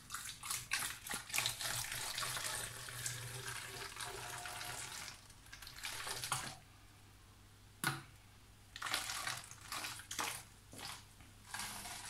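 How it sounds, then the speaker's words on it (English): Vinegar is poured into a pot to start a homemade fire extinguisher, giving a close, splashing water sound for several seconds, followed by a few brief handling clicks and knocks with quieter gaps. "we put one over three of the vinegar in the pot."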